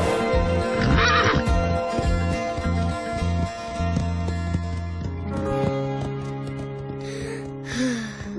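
A horse neighs loudly at the start of a Barbie pony-tale film scene, with another whinny and snorts later over music.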